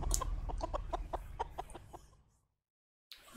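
A chicken in an episode of the Fallout TV series clucks in a quick run of sharp, close calls that fade away, followed by silence and then a brief burst of other sound.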